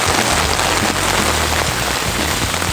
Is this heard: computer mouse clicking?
no